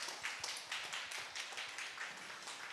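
A church congregation claps to welcome a pastor's wife at a worship service, a soft, continuous patter of many hands that sounds distant and faint, steady with no voices over it.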